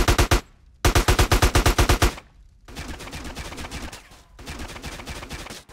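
Rapid bursts of automatic gunfire in GTA San Andreas Definitive Edition, loud and close, two quick volleys separated by a brief gap, then sustained dense firing and crackle.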